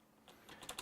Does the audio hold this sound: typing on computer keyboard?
yes